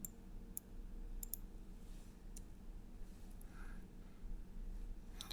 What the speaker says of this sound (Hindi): अब अपना माउस पॉइंटर जैसे ही इसके ऊपर मैं क्लिक करता हूँ